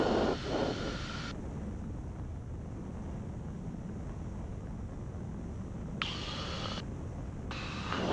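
A Piper Archer II PA-28 flies the traffic pattern at Old Bridge Airport with power reduced on the downwind leg, its engine a steady broadband drone mixed with wind rush, loud and constant from inside the cabin.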